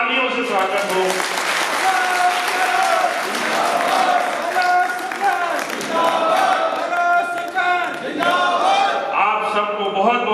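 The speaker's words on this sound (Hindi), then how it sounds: "एक बार जोरदार माननीय मुख्यमंत्री जी के लिए तालियों से स्वागत हो" Crowd applause welcoming the Chief Minister at a district-level development exhibition opening in Jalore, loud clapping mixed with music and voices throughout.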